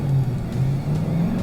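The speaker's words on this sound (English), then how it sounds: "Drivers, start your engines" A car with a modified OEM chassis idles and revs low at a test track, a steady throaty engine drone with slight pitch swells, close and alone.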